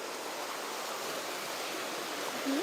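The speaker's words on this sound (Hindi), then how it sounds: "ये पूरा प्रेशर से पानी आ रहा है।" Floodwater rushing under pressure through a small village, a dense, steady roar of flowing water with no talking.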